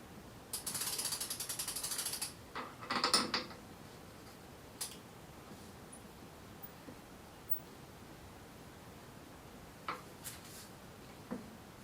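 A pedal is screwed into a Super73 Z Miami e-bike with a brisk ratcheting wrench. A burst of fast clicks comes first, then a few scattered tool ticks and taps in a quiet room.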